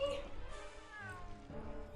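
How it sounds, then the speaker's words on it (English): A faint cat meow in Aliens vs Predator 2, one drawn-out wavering cry beneath quiet background sound. "It's just the sound of a cat."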